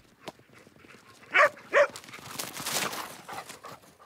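Two quick dog barks ring out close together, fairly near, against rustling outdoor background noise at a mountain farm home where dogs live among other animals.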